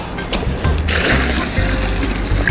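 Fresh water splashes and sloshes as it is poured into a fish container at Port Royal, a continuous close gurgling pour over a few seconds.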